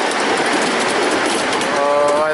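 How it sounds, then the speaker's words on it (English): Rideable model train rolling across a bridge, a steady loud rumbling rattle with continuous rolling noise and a faint squeal near the end. "I love the sound of trains going across the bridge"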